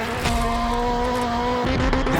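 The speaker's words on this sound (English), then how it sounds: "more gas, more tire smoke, it's Gymkhana" Travis Pastrana's 862bhp Subaru gymkhana car holds a loud, steady engine drone with sustained tonal harmonics, rough tire scrub and a brief dip in the noise near the end, with no talk.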